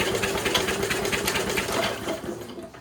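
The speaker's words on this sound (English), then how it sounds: "Alright, starter works." Starter motor cranking the engine of an old, long-neglected Big Ten lawn mower, a steady fast mechanical whirring churn held close and loud for about three seconds before easing off at the end.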